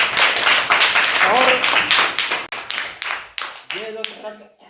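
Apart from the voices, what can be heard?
schoolchildren clapping for a classmate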